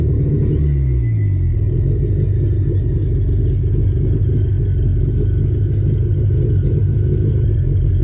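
A Honda Civic EF engine idles with a steady, loud, low rumble close by, holding an even note throughout with no talk over it.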